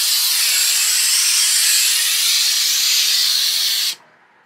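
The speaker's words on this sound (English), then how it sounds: "allows you to steam the window" A Karcher steam cleaner fitted with a window nozzle releases a loud, steady hiss of steam onto a window, then cuts off abruptly near the end.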